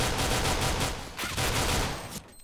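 Counter-Strike gunfire on the de_mirage map rattles out in rapid automatic bursts: a sustained stretch of shots, a brief lull, then another burst before it cuts off.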